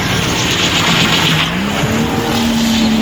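A drifting car running on its bare rims after both rear tires have burst, a loud continuous engine roar with grinding, scraping noise and a rising engine tone, steady and close throughout.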